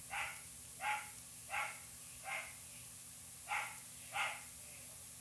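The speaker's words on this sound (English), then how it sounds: "my dog is barking" A playful dog barks six times in a loose rhythm, the barks fairly close but moderate in volume, with quiet gaps between them.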